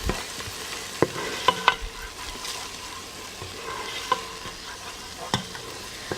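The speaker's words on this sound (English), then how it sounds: "I'm just going to go ahead and stir that in with a big spoon" A big spoon stirs a hot pot of vegan chili, giving soft scrapes and several sharp knocks against the pot over a low, constant simmer.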